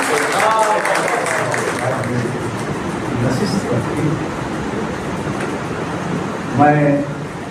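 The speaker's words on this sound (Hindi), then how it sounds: "आपकी पुरजोर तालियां इस बात की गवाही" An audience at a Malegaon poetry gathering applauds with a dense, steady wash of clapping in the middle. A voice speaks before and after the applause.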